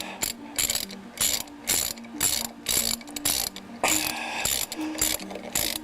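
Ratchet wrench tightening 14 mm hydraulic engine mount bolts on a 2006-2012 Mitsubishi Eclipse GT, loud rapid clicking in repeated short strokes, close up, with no talking.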